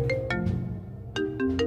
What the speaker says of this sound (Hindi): फिर किसका फोन आ गया?